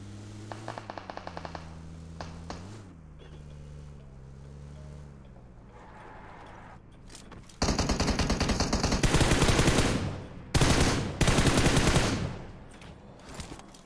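Gunfire in a pistol-war shooter video game: quiet stretch of a faint low drone, then loud sustained bursts of rapid automatic fire, pausing briefly before another heavy volley.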